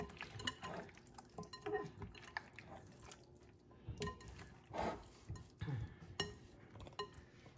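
Oxtail meat is worked together with seasoning, garlic and onions in a bowl, giving soft, wet squelching and intermittent clinks of utensil on dish, faint and close, with no talking.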